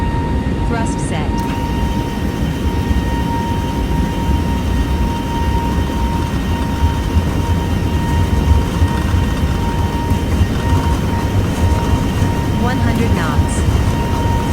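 Airbus A320neo engines at takeoff thrust during the takeoff roll at Nantes in bad weather, a steady loud broadband roar with a constant whine, heard from inside the cabin.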